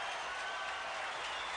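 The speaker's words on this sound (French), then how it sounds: "Et le public qui applaudit Lendl." Crowd applause at the 1989 US Open men's tennis final between Becker and Lendl, a steady, dense wash of clapping filling the short stretch at an even level.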